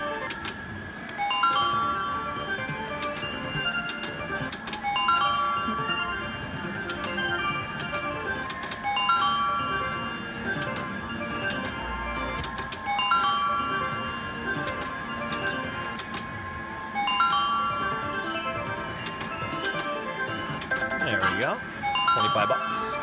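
High-limit Wheel of Fortune slot machine spinning at a casino, bright looping electronic chimes and ticking reel tones ringing steadily and close for a long stretch, with someone talking over the melody.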